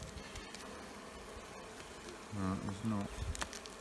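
Honey bees swarming around nuc hives, a thick continuous buzz near the microphone; a person speaks briefly over the humming toward the end.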